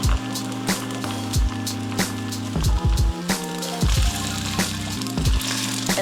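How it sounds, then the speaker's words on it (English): Garlic fried rice with cracked eggs stirred in a pan: repeated scraping and clinking of a utensil against the pan in an uneven rhythm, with sizzling underneath and no talking. "Give it a good stir."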